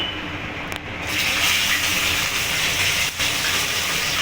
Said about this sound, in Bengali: তেলটা গরম হয়ে গেছে এবার আমি মাছগুলোকে ভেজে নেব